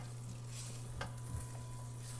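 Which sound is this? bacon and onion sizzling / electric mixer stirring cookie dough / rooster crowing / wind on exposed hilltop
bacon and onion sizzling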